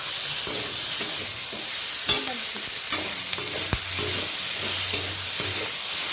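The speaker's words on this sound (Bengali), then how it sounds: "খুব ভালো করে ভেজে নিয়েছি আদা রসুনের পেস্ট" Ginger garlic paste fries in a pan with a constant loud hiss and sizzle, broken by a spoon scraping and knocking against the pan several times, close up.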